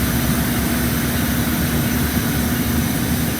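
Steady low diesel drone of an MPI F40PH-3C locomotive engine in Train Sim World, a continuous hum with a constant pitch that holds evenly throughout, with no voices.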